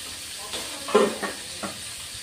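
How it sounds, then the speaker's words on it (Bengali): Tangra fish frying in a pan gives a close, hissing sizzle that swells briefly with a few stirring bursts over a short stretch, with no speech. "দুইবারে আর কি ভেজে নিচ্ছি।"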